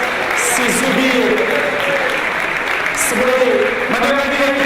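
Loud, sustained audience applause fills the hall without a break, with voices and cheering rising over the continuous clapping.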